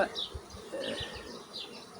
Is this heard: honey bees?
yes